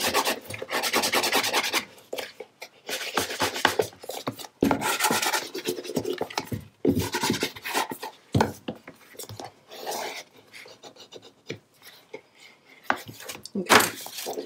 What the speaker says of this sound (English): I'm gonna burnish everything into place.